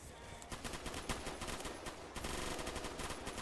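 Rapid bursts of SCAR PDW gunfire in the Roblox shooter Phantom Forces, loud close automatic volleys with brief pauses between strings of shots.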